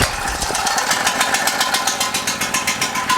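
A Harbor Freight Predator 4375 generator with a 6.5 HP engine starts for the first time on choke, then runs with a loud, close, rapid, even chugging and a pulsing exhaust beat.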